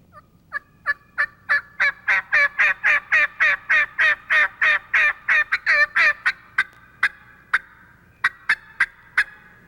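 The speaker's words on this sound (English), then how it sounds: "Harold and David like to return to areas where they heard turkeys gobbling at daybreak" Wild turkey gobbling during a spring hunt in hardwood hills: a long run of rapid, loud gobbling pulses close by, then a few spaced notes trailing off, with no talk.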